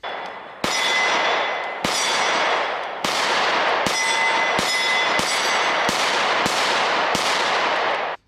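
Taurus TS9 pistol fired at a shooting range, eight sharp loud shots spaced roughly a second apart, each with a ringing reverberant tail, and no talking.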